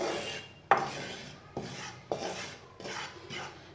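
A metal spoon stirs flour as it dry-roasts in a pan for coconut barfi, giving repeated close scraping rasps in an uneven rhythm with short gaps between strokes; no voices.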